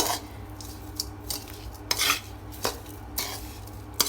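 Panjiri ingredients, including pumpkin seeds, being mixed in a pan with a spoon, giving a run of close, irregular metal scrapes and clinks of utensil on pan against a low steady hum.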